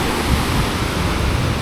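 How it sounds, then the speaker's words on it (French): Big sea waves break on the shore along a Bali coastline with small cliffs, making a loud, dense, unbroken roar of surf with no distinct individual crashes. "la mer, les grosses vagues"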